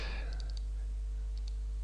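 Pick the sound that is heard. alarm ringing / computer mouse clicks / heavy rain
computer mouse clicks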